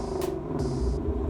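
A 2016 Ford Shelby GT350 exhaust in sport mode gives a brief, deep, steady burbling drone, loud and close, with hissy surges above it.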